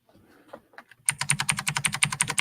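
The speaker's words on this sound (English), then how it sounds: "I'm not having any success in typing this" Rapid typing on a computer keyboard, a steady run of close, crisp key clicks after a second of faint fumbling, with no speech.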